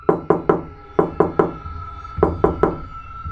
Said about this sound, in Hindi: दरवाजे पर भारी दस्तक।